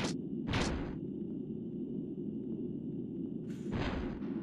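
Cannons firing in the PS1 game Megaman Legends, three sharp blasts with brief whooshing tails, two in quick succession then another after a pause, over a steady low game background hum.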